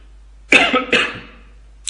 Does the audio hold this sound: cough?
yes